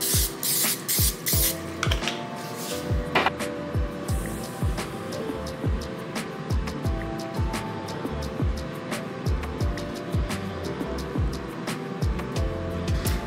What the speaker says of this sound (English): I don't think you have to spray it, but I always do.